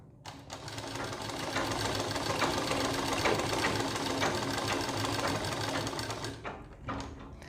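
Stitching a neckline beside buckram, a sewing machine runs in one close, steady, loud whirring burst of several seconds, then stops with a few soft clicks.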